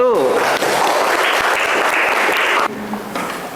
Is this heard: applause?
yes